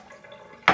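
Water pours into a stand mixer bowl while pizza dough is being made, a short rushing splash that starts abruptly at the end after near silence.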